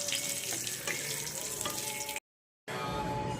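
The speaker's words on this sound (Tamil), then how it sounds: "செவந்தது எடுத்து வச்சுட்டு ரவையை வறுத்து எடுத்துக்கலாம்." Semolina roasting in ghee for kesari, in the same pan where cashews were just fried: a steady, close sizzling hiss with stirring, broken by a brief silence near the end.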